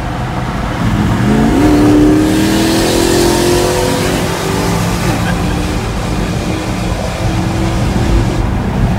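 A turbocharged 2014 Jeep SRT8 accelerates hard, its engine note rising steadily after a brief lazy start, loud and close, with people talking over the roar.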